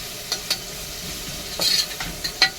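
Tomato rice being stirred in a pan, a soft spoon scrape and sizzle with a few sharper clinks of the utensil against the pan, close and alone.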